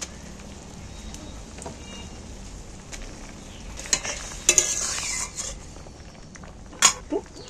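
Fish roe simmers in a spicy gravy with a soft, low bubbling hiss, broken by a few sharp clinks of a utensil against the pot near the middle and end.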